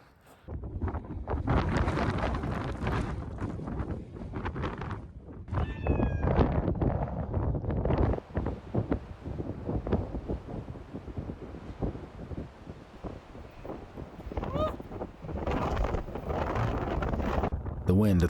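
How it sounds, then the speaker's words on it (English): Strong wind blasts across the summit of a volcanic cinder cone, heavy rumbling buffeting on the microphone with gusts rising and falling, broken by footsteps and brief sounds from people nearby. "The wind at the top of the cone is brutal"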